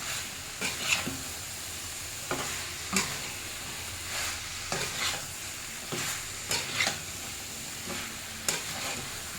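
Cauliflower florets frying over medium-low flame in a pan for a gobi gravy masala, with repeated stirring scrapes every second or so over a steady soft sizzle, close and fairly quiet.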